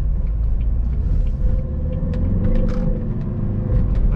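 A car accelerates and shifts up through its gears, the engine a steady, loud, close rumble heard alone with no voices.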